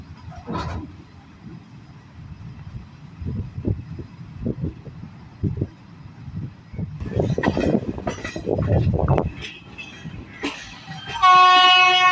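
A special passenger train between Chennai Central and Tuticorin rumbles past with clattering wheels and bursts of noise, then a loud horn blares near the end.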